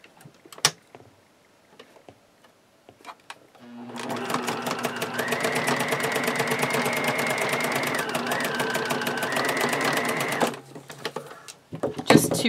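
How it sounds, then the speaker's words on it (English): A sewing machine runs a zigzag stitch along a fabric edge, starting after a few quiet handling sounds and whirring steadily for about seven seconds, with a brief shift in pitch midway, before stopping. "I'm going to just do a quick little zigzag along that edge"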